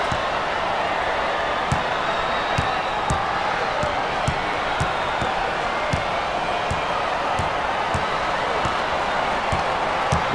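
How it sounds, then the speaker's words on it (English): A basketball arena crowd roars in a dense, sustained wash of cheering during a Florida vs. Miami game, with sharp ball bounces and thuds punctuating the noise at irregular intervals. "Listen to the crowd."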